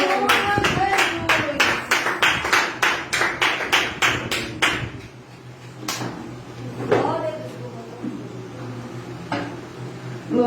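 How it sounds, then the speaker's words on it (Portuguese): A church congregation at a prayer circle claps hands in praise, a close run of about fifteen sharp, evenly spaced claps in a steady rhythm, then a few scattered single claps as the clapping thins out. "Sempre glorificando a Deus com palmas."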